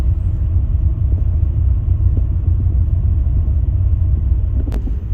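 Steady low engine rumble and road noise from inside an intercity bus travelling the ordinary road toward Bogor after Pasar Rebo, continuous and fairly loud with a brief brighter click near the end.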